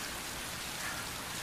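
Steady rain falling in an episode of the drama series Heartstopper, a dense, even hiss of rain heard alone with no talk over it.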